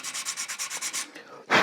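A sanding block scrubs rhythmically over stained wood, about ten quick even strokes close to the microphone, then a short pause and one louder, harsher final pass.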